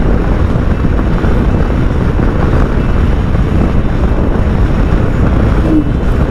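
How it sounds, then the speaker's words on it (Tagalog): Steady, heavy wind buffeting the microphone while riding an NMAX V2, a continuous low roar with no letup, like riding fast in open air. "Ang sarap ng hangin,"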